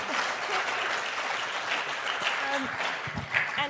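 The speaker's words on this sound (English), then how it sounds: "I think that deserves an applause." Audience applause at an interview event with a chef, a sustained wash of clapping from the crowd with some faint voices and a laugh mixed in beneath it.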